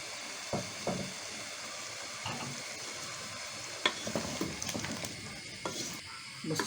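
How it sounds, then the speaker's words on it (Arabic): Tomato juice goes into a hot pan for an Egyptian oven-baked potato tray dish. Continuous sizzling runs under scattered scraping and clinking stir strokes, close and moderately loud. "نزلت بعصير الطماطم غلوة واحدة، غلوة واحدة بس"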